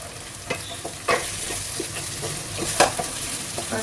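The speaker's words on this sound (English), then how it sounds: "So I will stir-fry them together with the other ingredients for a while." Potatoes are stir-fried with vegetarian mutton curry in a pan, giving a steady close sizzle broken by several sharp scraping stirs and clinks of the spatula.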